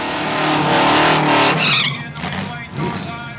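A race car roars past up close at Shannonville Motorsports Park, its engine note climbing then fading, followed by tire noise and more engines in the distance.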